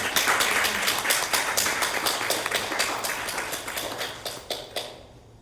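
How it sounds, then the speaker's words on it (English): A church congregation claps for its leaders in a steady patter of many hands that stays dense, then thins and fades toward the end. "if we could give our leaders a good round of applause for what they did"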